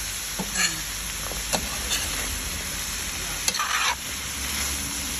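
Meat sizzling steadily in a pan over high heat while being stirred, with occasional scraping and clinking of the utensil against the pan, close and continuous, no talk.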